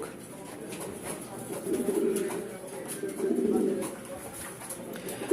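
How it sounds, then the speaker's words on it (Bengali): Long-distance racing pigeons coo in rolling, throaty bursts close by, rising and falling over a steady background hiss, with a voice faintly present. "এগুলো হচ্ছে একদম লংয়ের কবুতর"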